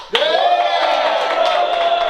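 An improv show audience cheers and whoops loudly for about two seconds to vote. The roar of the crowd rises sharply and holds, with yells and some clapping in it.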